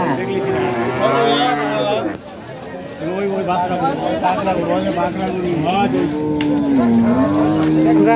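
Friesian dairy cows moo repeatedly at a busy cattle market in Rajshahi, with long, loud, close lowing calls over a constant background of people and other livestock.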